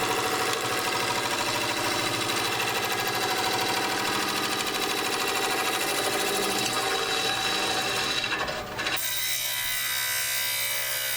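A gouge cuts shavings from a wooden bowl spinning on a lathe, giving a loud, steady whirring scrape that runs unbroken and then cuts off near the end, leaving a low motor hum.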